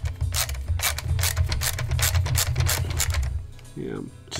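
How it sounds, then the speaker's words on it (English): Rapid ratcheting clicks of a screwdriver driving screws into a Gobots Zod toy during a repair, close and busy in quick bursts, ending with a brief voice. "just putting screws in"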